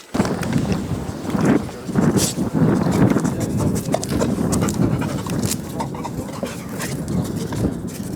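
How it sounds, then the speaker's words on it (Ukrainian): A Labrador border service dog sniffs busily and pants rapidly up close while searching a car's trunk, interior and wheel arches at a checkpoint, with faint voices and clatter in the background. "Вона ретельно обнюхує багажник, салон та колісні арки, реагуючи на будь-який підозрілий запах"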